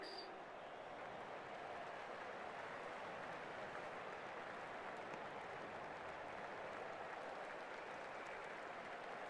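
Cricket stadium crowd in the Cricket24 video game during a Desert Vipers vs MI Emirates ILT20 match, a dense, steady roar of cheering and applause that holds at an even level throughout.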